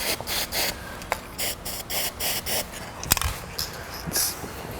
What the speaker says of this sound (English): It's this dry lubricant for lubricating like door hinges and stuff.